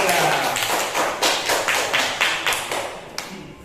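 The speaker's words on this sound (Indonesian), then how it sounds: "silakan beri aplaus tepuk tangan untuk kelompok" A small classroom group claps for a student team, a few seconds of uneven, close-up hand claps with distinct individual slaps rather than a dense roar.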